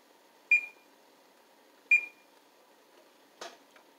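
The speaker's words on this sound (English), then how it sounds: "Let me put the timer on." A kitchen timer being set while cooking cabbage rolls gives two clear, short electronic beeps spaced over a second apart, followed by a softer click, in an otherwise quiet room.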